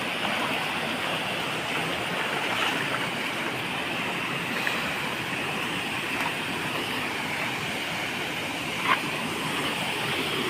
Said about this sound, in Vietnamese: Đây, suối rất là trong xanh luôn nhá. Đây là cái thác nhá, cái thác suối luôn.